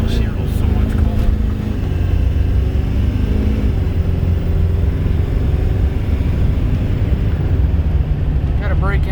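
Duramax LB7 diesel truck engine pulling hard from a standstill toward 80, a steady loud drone of engine and road rumble heard from inside the cab, with faint voices underneath.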